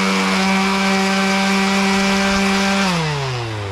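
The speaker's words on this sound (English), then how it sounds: "I'm just going to go ahead and take a sander with some 150, and I'm just going to sand this down" A sander with 150 grit runs on the chrome housing of a 1985 Dodge D100 Utiline, a loud steady motor whine with a strong tonal hum that drops in pitch as it winds down at the end.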